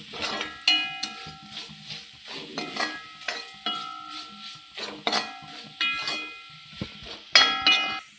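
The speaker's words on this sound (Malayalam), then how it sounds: "നന്നായി ഇളക്കി മൂപ്പിക്കാം." Spice powders, including fenugreek powder and garam masala, stirred and roasted in a pan, with repeated metallic scrapes and clinks of a spoon against the pan over a soft sizzle, close and fairly loud.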